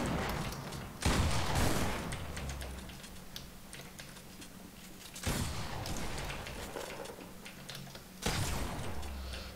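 Rapid bursts of gunfire crackle in three loud volleys, separated by quieter stretches of clicking and low background noise.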